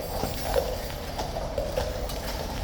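Horses' hooves clip-clop steadily on hard ground at Horse Guards in London on a sunny morning, a moderate rhythmic patter of light knocks over a constant background hum.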